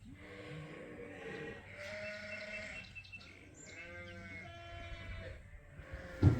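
Sheep and ewe lambs bleat repeatedly inside a farm barn, several overlapping calls near and farther off over a low, busy background hum.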